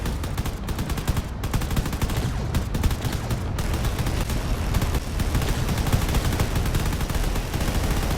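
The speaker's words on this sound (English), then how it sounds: "lots of the main guns are starting to fire away. There's just a string of bullets coming out" Drones' main guns firing in a video game, a dense unbroken stream of rapid bullet fire with rattling machine-gun bursts, loud and continuous throughout.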